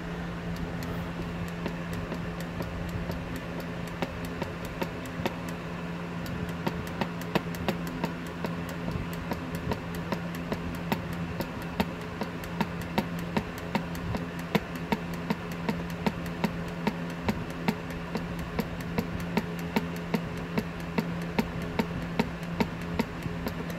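A hand pump pushes fluid into the differential of a 2016 Mazda MX-5, giving steady, rhythmic clicks and squeezes that repeat throughout over a constant low hum.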